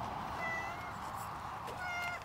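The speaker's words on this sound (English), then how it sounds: "Over here we have a tactical gardening cat on the patrol for any kind of rodents" A cat meows in a garden while patrolling for rodents, a few drawn-out plaintive meows close by, with no talk over them.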